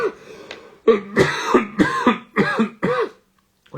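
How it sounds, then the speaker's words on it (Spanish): A man coughs in a run of about six harsh, close bursts, some rasping like throat clearing, with short gaps and a quiet pause near the end. "Hoy estoy tosiendo"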